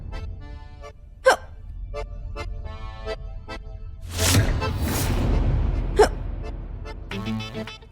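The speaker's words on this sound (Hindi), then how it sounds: "अब कहीं हिचकी के चक्कर में खाना छोड़कर ना उठ जाए ये।" A woman's hiccups at a family meal in a Hindi TV serial, a few sharp, gasping catches spaced apart, with breathy sounds between them, fairly close and heard alone.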